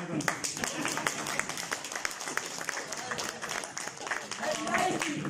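An audience at a Punjabi poetry recital breaks into scattered clapping and applause, fairly faint and continuous, mixed with crowd murmur and voices talking.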